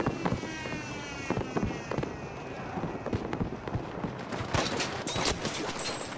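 Gunfire in the video game Battlefield 5: a rapid series of sharp, crackling shots in uneven bursts, close and loud over a continuous rumble of battle, with heavier volleys near the end.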